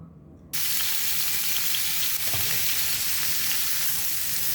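Marinated boal fish spiced with coriander, cumin, ginger and garlic sizzles in hot oil in a frying pan, starting abruptly into a loud, steady crackling hiss that continues close up without any talk.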